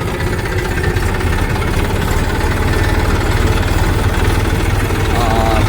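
A farm tractor engine idles steadily nearby, a loud, continuous low rumble with a regular throbbing knock throughout, and a faint voice briefly heard near the end.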